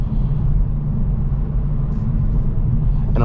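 A 2023 Kia Forte GT driven in sport mode gives a steady, loud, low engine and road rumble from inside the cabin, with a brief brighter rise near the end.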